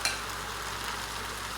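Beef and onion stir-fry in a single pan, making a short, soft, even sizzle and hiss with faint stirring.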